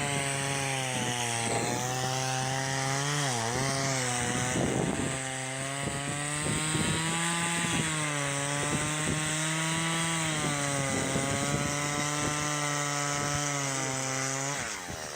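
Chainsaws cutting through frozen river ice, a loud continuous engine whine that rises and dips in pitch as the blades bite and rev, running without pause for the whole stretch.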